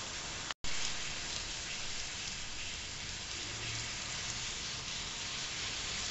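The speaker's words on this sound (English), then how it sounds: "Tortilla that is frying up." Tortilla frying in about two tablespoons of oil in a pan over medium heat, a steady, even hiss and crackle with a brief dropout near the start, no talking.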